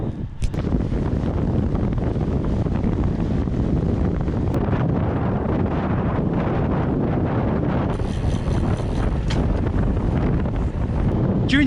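Loud, steady wind buffeting a microphone while cycling into a crosswind and strong headwind, a continuous roar that covers the whole stretch with no break.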